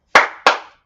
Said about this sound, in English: 2 claps and a Ric Flair